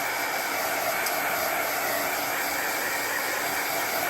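Heat tool blowing hot air to dry a paper craft card, a steady loud whooshing hum that runs unchanged throughout.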